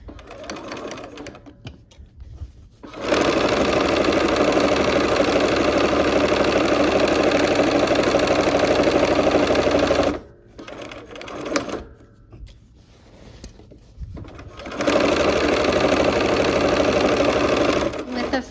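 A sewing machine stitching a quilt block with a 1/4 inch seam runs in fast steady bursts. A long run gives way to a pause with short starts, then a second run near the end.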